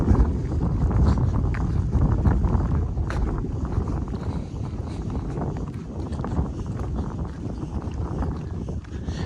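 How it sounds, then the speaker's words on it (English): Wind buffets the microphone on a mountain trail on the Appalachian Trail with a steady low rumble and gusty roar, broken by occasional faint knocks, continuous throughout. "It's a little windy, but not bad."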